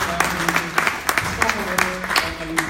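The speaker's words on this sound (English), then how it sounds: "We give them a warm applause." Applause at a heritage conservation meeting in Kortrijk: a small group claps in scattered, uneven beats, moderately close, with a voice speaking over it.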